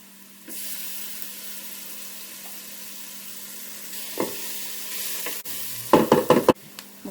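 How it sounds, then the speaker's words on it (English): Garlic sizzles in oil in a Ninja Speedi pot as a steady close frying hiss that runs throughout, with a few knocks and scraping stirs near the end. "right there and then add some garlic"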